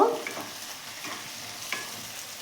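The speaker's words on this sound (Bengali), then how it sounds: "আদা বাটা দিচ্ছি এর সাথে রসুন বাটাও দিয়ে দিচ্ছি এগুলোকেও একসঙ্গে মিশিয়ে নেব" Ginger and garlic paste is stirred into mutton frying in a pot, giving a soft continuous sizzle with a few faint scraping stirs, close and fairly quiet with no talking.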